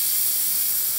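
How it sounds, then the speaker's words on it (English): Steady hiss of steam escaping from the steam wand of a La Pavoni Europiccola espresso machine, a continuous broadband rush that holds even and fairly loud throughout with no talking. "this is the steam from here."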